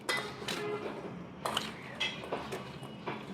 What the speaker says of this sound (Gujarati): આને હલાવવાનું છે આ રીતે